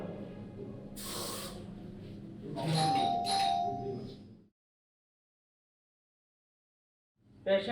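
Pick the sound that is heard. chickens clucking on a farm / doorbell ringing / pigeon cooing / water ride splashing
doorbell ringing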